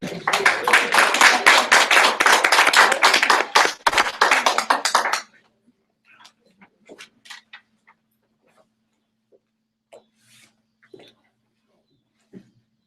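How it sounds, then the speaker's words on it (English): Audience applause for panelists at an interfaith climate dialogue event, loud sustained clapping from a crowd for about five seconds, then cutting off into near silence with a few faint scattered sounds. "can we give a big round of applause again to our panelists"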